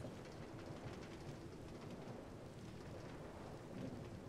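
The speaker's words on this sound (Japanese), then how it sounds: "雨がめっちゃ降ってるな" Heavy rain pours steadily over a swamp in Minecraft, a dense continuous hiss with low rumbling beneath, faint and unbroken throughout.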